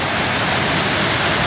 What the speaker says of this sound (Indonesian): Air terjun Loh. Niagara.